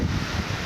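Wind blows outdoors on a cool afternoon in rural India, a brief rush of broadband gusting and rumbling noise buffeting the microphone.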